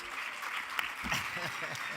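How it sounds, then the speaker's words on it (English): An audience at an artificial intelligence summit applauds after a fireside chat, a soft, fairly distant patter of clapping with a voice talking over it. "Give them another big round of applause."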